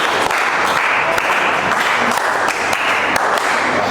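Classroom of students applauding together in a steady, dense burst of clapping that fills the room, close and fairly loud for several seconds.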